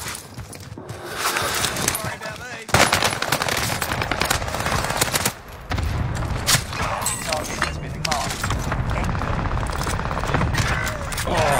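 Machine gun fire in a Call of Duty match crackles in rapid dense bursts, loud and close, with brief breaks between volleys and players talking over it.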